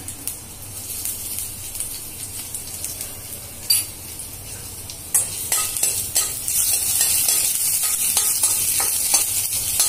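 Finely chopped garlic and ginger fry in a pan for chicken manchow soup, with steady sizzling, stirring scrapes and utensil clinks that grow busier and louder toward the end, with no talking.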